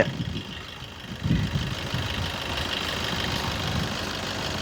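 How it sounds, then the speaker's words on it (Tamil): A Mahindra diesel vehicle engine idles steadily with a low, rough rumble, close by and unchanging throughout. "டீசல் வண்டி"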